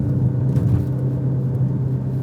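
Performance SUV engine held near 4,000 RPM in normal mode, a steady, smooth, close hum with a firm low tone and even rumble, loud and unbroken throughout with no talking.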